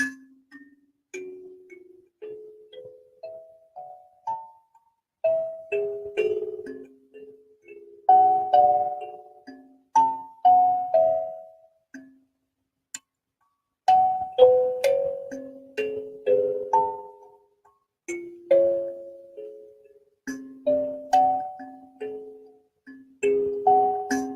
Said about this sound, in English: this is what they call a kalimba